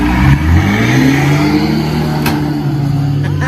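A vehicle engine revs hard and holds a strained drone while towing a bogged car out at Lake Eucumbene, loud and close throughout.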